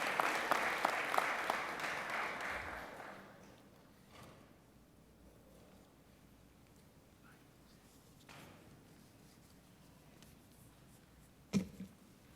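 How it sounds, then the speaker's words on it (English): Applause at a mayoral public hearing for two speakers called up together, brief and moderate, fading out after about three seconds into a quiet room with a few thumps and shuffles. "You can clap for them."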